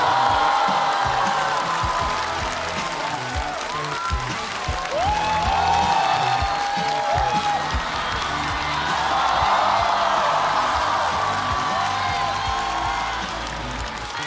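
A stand-up comedy audience applauds and cheers to welcome a comedian onto the stage, a dense sustained wash of clapping with whoops and music underneath, loud throughout.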